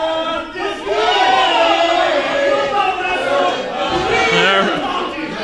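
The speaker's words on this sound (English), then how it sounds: "Crowd here at the EWF Arena more than willing to sing Eric Cross out to the back here in defeat" A wrestling crowd at the EWF Arena sings in unison as a defeated wrestler heads to the back. The loud, sustained chant of many voices fills the arena throughout.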